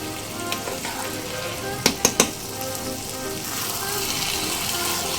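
Lau chingri with garam masala and ghee sizzles in a pan, and a quick burst of three loud clanks from the stirring spoon comes near the middle over a constant frying hiss.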